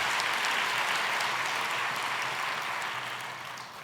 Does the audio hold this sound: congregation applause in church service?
yes